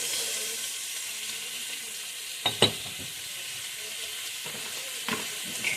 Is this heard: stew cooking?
yes